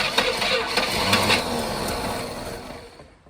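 A 1978 Jaguar XJS fitted with a Corvette V8 cranks and briefly catches with a loud, rough engine roar up close, then the sound fades away within a few seconds.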